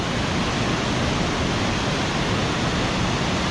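River water rushing out of a canyon on the Middle Fork Snoqualmie River, a loud, constant broadband roar like a waterfall, unbroken and without voices.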